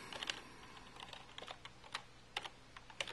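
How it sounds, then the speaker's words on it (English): Quick, light keystrokes tapped out one-handed on a computer keyboard at close range, coming in uneven clusters with short pauses over a faint steady hum and no voices. "Sorry if I'm not typing too fast."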